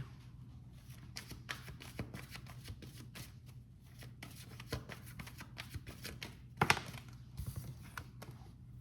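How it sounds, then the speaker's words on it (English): Tarot cards shuffled and one drawn from the deck, a run of soft riffling flicks and taps close by, with a sharper snap of a card near the end and no speech. "Let me get one more card."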